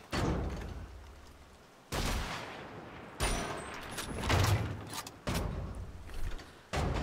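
Gunfire in the shooter Wolfenstein: The Old Blood, with loud broadband blasts that arrive in several bursts. Each burst is separated by brief gaps and trails off into a rumbling decay.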